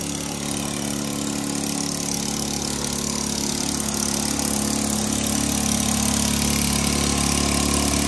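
A small engine used for drilling runs steadily at a constant, buzzing idle, close and loud, with no voices.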